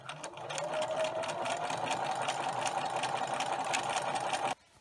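Sewing machine stitching a fabric tube for a catnip cat toy, a steady rapid mechanical whirr with fast needle ticks that runs several seconds, close and fairly quiet, then stops abruptly.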